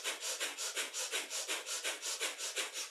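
Rapid rhythmic panting during a kundalini yoga breath-of-fire exercise: about fifteen quick, even, airy breaths, loud and close, with no talking.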